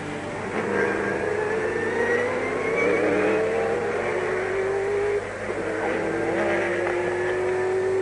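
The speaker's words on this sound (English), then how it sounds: "Second car on the track is this man in the Sauber Mercedes" A Sauber Mercedes C11 race car at Le Mans in 1991, its engine a continuous loud drone with rising pitch sweeps as it accelerates past, steady throughout with a brief dip near the end.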